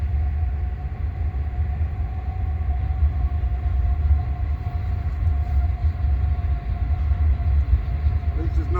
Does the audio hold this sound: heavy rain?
no